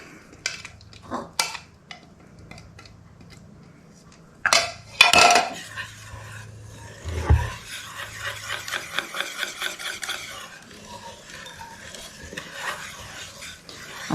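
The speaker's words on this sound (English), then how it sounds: "I'm going to add this to the pumpkin mixture and whisk it to combine" Egg and buttermilk are whisked into a pumpkin mixture for gluten-free pumpkin bread, with a few clinks against the bowl followed by a quick, rhythmic scraping whisk close by.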